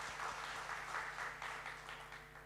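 A church congregation claps steadily in sustained applause during a worship service, soft and somewhat distant, filling the whole moment without voices.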